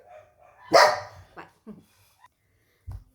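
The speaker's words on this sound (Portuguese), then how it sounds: "o cachorrinho vai latir" A small dog lets out one loud sharp bark followed by a few softer yips and whimpers nearby, with a brief spoken word in between.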